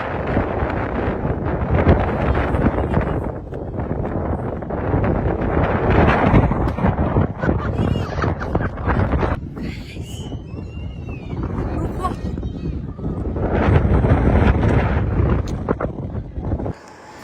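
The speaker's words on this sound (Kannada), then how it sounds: "ಜಾಸ್ತಿ ಗಾಳಿ ಪಡ್ತಾ ಇದೆ." Strong wind buffets the microphone at the Nandi Hills hilltop as a sunset nears, a steady loud roar that swells and eases, with people talking over it.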